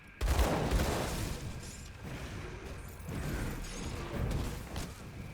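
Rapid gunfire in a video game, with bursts of shots that blur into a dense, steady crackle over several seconds, heard close and fairly loud, with no talking.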